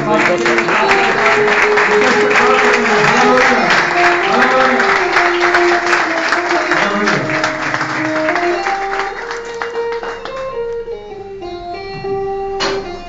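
Church congregation at a worship service clapping along, rhythmic group applause blended with keyboard music and singing, loud and steady before easing off toward the end.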